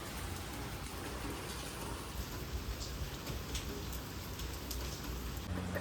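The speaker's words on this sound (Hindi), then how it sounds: "एकदम से बारिश बहुत ज़्यादा तेज़ होने लगी" Heavy rain pouring down steadily outdoors, a dense, constant hiss of drops with no pauses, moderately loud and unbroken throughout.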